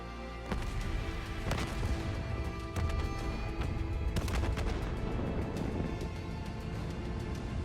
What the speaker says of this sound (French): Hendrix, on a des explosions multiples dans tout le bâtiment.